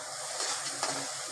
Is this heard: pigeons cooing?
no